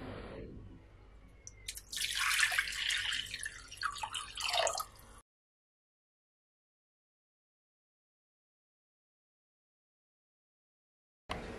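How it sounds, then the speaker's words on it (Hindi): A glass of water is poured onto 250 grams of tamarind in an Imli chutney preparation, a steady splashing pour lasting about five seconds before falling silent. "इसमें मैं एक गिलास पानी ऐड करूंगी।"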